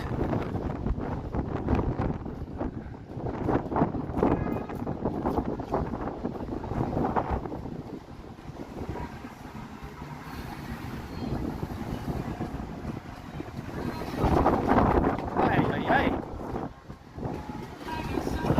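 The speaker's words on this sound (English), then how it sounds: "Wind just came and smacked me right in the head." Wind gusts buffet the microphone outdoors on a Toronto street, a loud rumbling roar that swells and eases over several seconds, with no one speaking.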